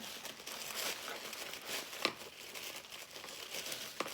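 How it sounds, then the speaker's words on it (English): Sheets of tissue paper pulled apart one at a time while making a paper flower, giving a steady close crinkling and rustling with a couple of sharper crackles along the way. "we are just pulling and separating these sheets of paper from one another"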